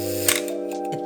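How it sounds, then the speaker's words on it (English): A camera shutter set to a one-second exposure clicks open and then clicks shut under a steady electronic hum, both clicks crisp and near. "So if I put it in 1 second, it's much more easier to see how this shutter behaves."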